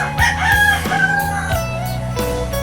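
Roosters crow loudly and close by in a backyard chicken pen, with overlapping long calls and hens clucking in the background.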